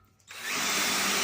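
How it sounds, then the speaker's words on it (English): Power drill boring a hole in a workshop, starting after a brief quiet moment and quickly rising to a loud, steady whirring grind that holds to the end, with no talking. "so when I drill the next hole,"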